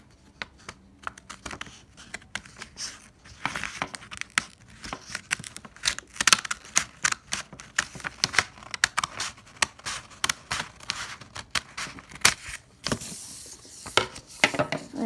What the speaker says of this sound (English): So now I'm gonna get my scissors, and I'm just gonna cut.